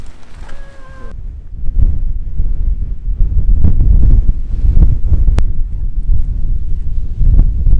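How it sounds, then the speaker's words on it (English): Strong wind at an Azores island viewpoint, roaring and buffeting hard against the microphone in loud sustained gusts, with a brief tonal sound at the very start. "More wind!"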